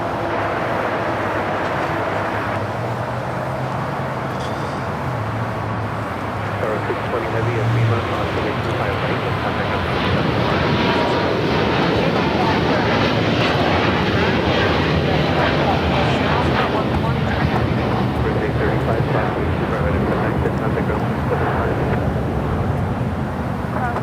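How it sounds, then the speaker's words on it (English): A China Eastern airliner at Los Angeles International Airport rolls down runway 25 right for takeoff, giving a steady broadband roar that swells and holds loud for over twenty seconds, with faint voices nearby. "China Eastern now rolling down at 25 at right."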